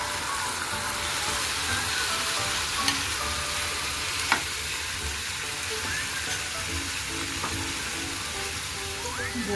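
Tomatoes and spices sizzle in browned onions in a pan for a Marathi-style tomato curry, a steady dense frying hiss with a few soft stirring clicks, close and continuous with no talking.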